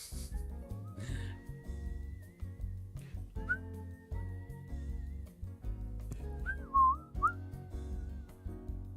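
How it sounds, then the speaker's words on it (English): Person whistling a slow, wavering tune in long held notes with a few quick warbling turns, faint and close, over a low steady hum from a workshop. "You kind of hear my whistling."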